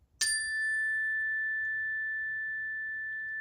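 A single chime struck to close a classroom calm session, one bright ring that starts sharply and then fades very slowly as a clear, pure tone lingering for several seconds over near silence.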